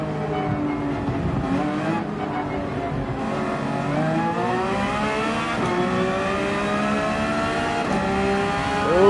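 Race cars lap Monza in Gran Turismo 7, engines revving and shifting through gears with rising and falling whines, a lead car loud and close while others drone alongside.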